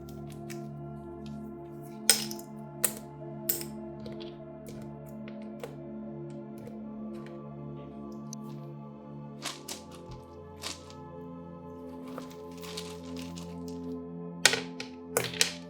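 Small charms and dice cast for a reading, giving a series of sharp clicks and clatters scattered irregularly over a quiet background hum, with a few louder bursts near the start and end.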